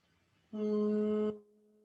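A single steady closed-lips hum in a sound vibration therapy class, held for under a second and then tapering off, close and clear against near silence.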